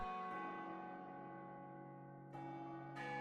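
Deep, hollow clock bell striking the hour, a long sustained ringing tone that slowly decays, with fresh strikes near the end, heard alone without voices.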